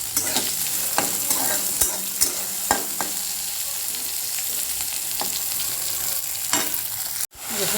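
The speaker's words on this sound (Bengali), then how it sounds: "চিকন বেগুন, এটা ভাজা ভাজা হতেছে" Thin eggplant fries in a pan with a steady loud sizzle, interrupted by repeated sharp clicks and scrapes of a spatula stirring at irregular intervals, ending in a brief cut to near silence; no talking.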